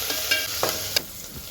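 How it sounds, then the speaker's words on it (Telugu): Coriander, mint and curry leaves fry in a pan, giving a bright, hissing sizzle at close range. Three or four quick scraping stirs cut through it over the short stretch. "మొత్తం ఎర్రగా అయ్యే వరకు ఫ్రై చేసుకోవాలి."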